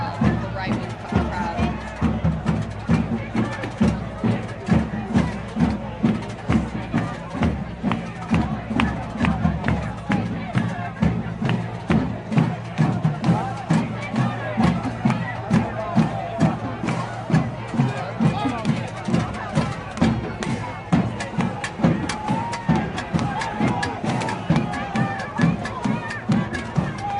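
Rival crowds of protesters at the Charlottesville rally make a loud, dense roar punctuated by rhythmic, repeated bursts, like chanted shouts or stamping, that keep a steady pulse throughout.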